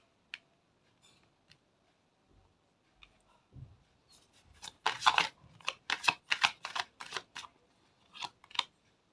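Tarot cards being shuffled by hand, heard as faint isolated clicks that build into a quick flurry of crisp riffling snaps, then a few last taps, close and quiet.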